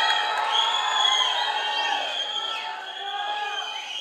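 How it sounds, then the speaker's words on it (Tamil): A large crowd of fans at a film pre-release event cheers and whoops continuously, shrill overlapping voices filling the hall at moderate loudness with no distinct clapping. "ப்ளீஸ் ஒரு பெரிய கைத்தட்டல்"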